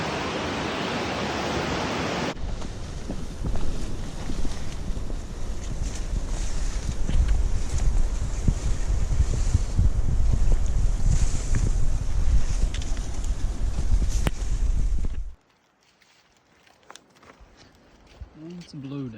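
Rushing river water flows loud and steady beneath a footbridge over the Swallow River on a snowy mountain trail near Glacier Peak, Washington, a broadband roar that holds for about fifteen seconds before cutting off to near quiet.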